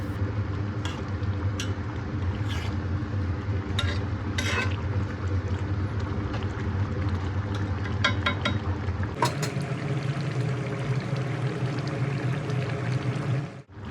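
Chicken curry with slit green chilies simmers in its gravy in a pan and is stirred. A steady low bubbling sizzle runs throughout, with intermittent clicks and scrapes of the spoon against the pan.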